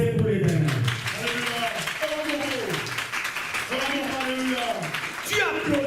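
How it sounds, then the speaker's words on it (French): A church congregation claps steadily throughout, a continuous wash of applause beneath a voice speaking and chanting over it. "Applaudissez pour l'Éternel."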